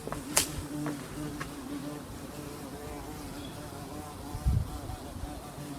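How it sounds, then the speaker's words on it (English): A large bee drones in a steady, low buzz outdoors in a natural setting, with a couple of brief sharper sounds early on and a soft thump near the end. "Ooh, look, it's a giant bee."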